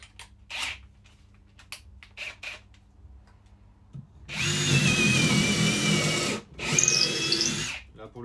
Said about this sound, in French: pour le perçage bois comme ça rentre comme dans du beurre